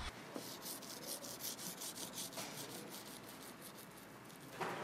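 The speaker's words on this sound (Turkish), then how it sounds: "Yani bariz haşır uşur ses geliyor. Yani zımpara gibi ses geliyor." Steady scratchy rubbing of a clay bar on the glass of a Skoda Kodiaq, a continuous gritty swishing with rhythmic back-and-forth strokes, close up and fairly quiet, no voices.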